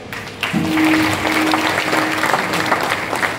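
A kirtan audience breaks into applause, a burst of many hands clapping that swells after a brief pause and holds steady, with a sustained tone running under the first part.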